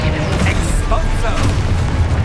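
A booming Exposo spell explosion during Hogwarts Legacy combat on PS5, heavy low rumble with scattered bursty effects throughout, and a player shouting spell names over the action.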